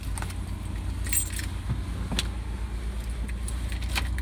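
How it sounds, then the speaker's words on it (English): Car keys jangle and clink several times in bright metallic bursts, heard over the steady low rumble of a camper van interior. "Okay. Keys. Here you go."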